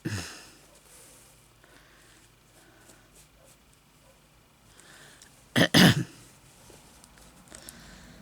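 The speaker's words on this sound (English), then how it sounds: "I was clearing my throat." One short, close throat clear in a couple of rough bursts, standing out from a quiet room with faint rustling.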